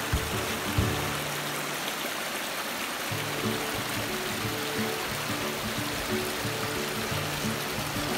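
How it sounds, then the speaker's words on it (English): A babbling brook beside the trail to Marymere Falls in Olympic National Park splashes and gurgles nearby. The flow stays steady and even throughout, with no other sounds. "Nothing like the sound of a babbling brook."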